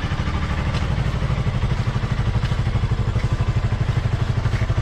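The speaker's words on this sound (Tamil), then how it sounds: "ஸோ வண்டி டக்கு டக்குன்னு ஆஃப் ஆகுதுருக்கு" A Bajaj NS200 motorcycle engine throbs close by at low revs, its loud, rapid pulsing beat holding steady through the stretch with slight unevenness and no clear cut-out.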